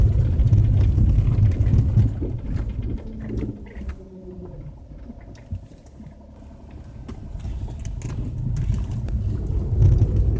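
A 1988 EVcort electric car climbs a hill in third gear, giving a steady low rumble and whine with road noise that eases midway and then swells louder again, with no talk.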